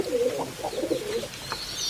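Pigeons coo in soft, throaty rolling phrases, a few close by, with faint higher chirps and light background hiss.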